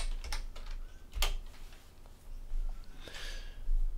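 Computer keyboard typing in a software tutorial setting, a few soft scattered keystrokes and short bursts close to the mic against a quiet room hum, with no talking.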